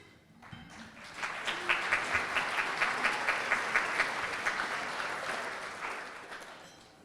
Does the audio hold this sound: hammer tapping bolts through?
no